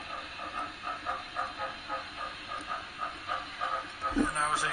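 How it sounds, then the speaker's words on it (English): BLI Class A #1232 model steam locomotive chuffing in a steady, rhythmic series of soft puffs at a constant pace, close by, with a brief louder burst near the end. "Chuffing gets more intense"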